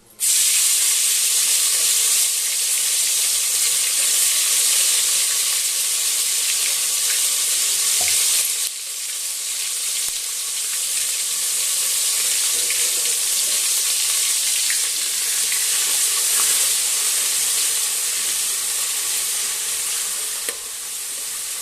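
Ground masala paste roasting in hot oil for a spicy village-style chicken curry, a steady loud sizzle and hiss that runs unbroken with a brief dip partway through, no voices.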